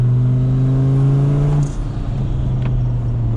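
A drift car with an OM605 diesel engine on snow tyres revs loudly and steadily, a strong droning note that lifts briefly then drops off partway through.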